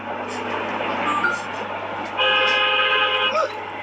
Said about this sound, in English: Someone honking at you?